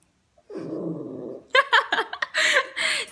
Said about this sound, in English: now she won't stop growling